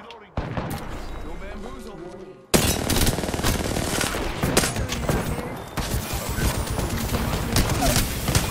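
Dense, rapid video-game gunfire erupts in loud, overlapping bursts. A quieter stretch gives way to a sudden, heavier barrage that carries on close and relentless to the end.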